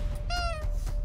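A cat character in a Gang Beasts brawl gives one short, clear meow, rising then sliding down, heard alone over faint game background.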